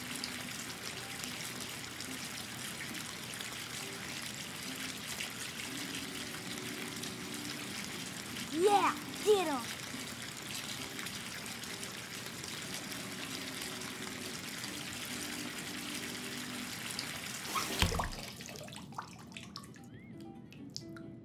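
Running water filling a bathtub in Life is Strange 2, a steady quiet stream with a few faint clinks and a brief louder splash-like hit near the end.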